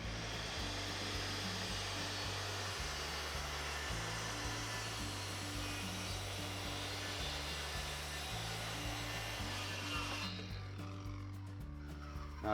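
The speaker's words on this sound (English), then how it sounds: "I've got a pile of sawdust up here that just got generated by the skill saw" A circular saw (Skilsaw) cuts wood on a custom woodworking workbench, a loud continuous motor whine with pulsing low hum running throughout, then the tone shifts near the end as the cut finishes.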